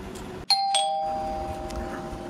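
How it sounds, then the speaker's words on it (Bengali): A doorbell rings indoors with two quick bright chime tones whose ringing tail fades over a couple of seconds, with a faint room background and no talking. "কলিং বেল বাজার না"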